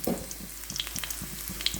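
Shallots and curry leaves stirred in hot coconut oil with popped mustard seeds, a soft sizzle under repeated scraping strokes of a spoon against the pan and occasional sharp crackles.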